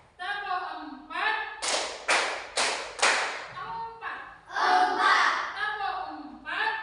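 Four quick unison claps from a room full of children playing a rhythm clapping game, crisp and evenly spaced, framed by an adult speaking.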